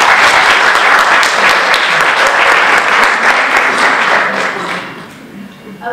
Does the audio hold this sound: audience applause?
yes